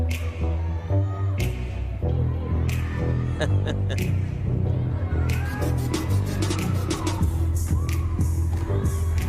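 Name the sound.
crowd cheering at gymnastics meet in Pauley Pavilion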